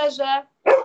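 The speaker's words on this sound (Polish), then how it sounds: "przepraszam, to mój pies" A pet dog barks close by, a short burst of harmonic yaps followed after a brief gap by another sharp bark, with a voice speaking alongside.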